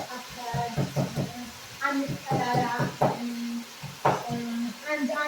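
Chopped onion sizzles and fries in a pan while it is stirred, giving a steady crackling hiss with occasional utensil knocks, nearly constant under someone talking throughout.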